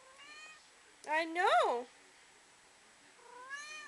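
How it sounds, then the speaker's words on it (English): A kitten meows several times at close range, a brief mew followed by a louder drawn-out rising and falling cry and a softer final mew, with a person speaking briefly in between. "My cat's talking."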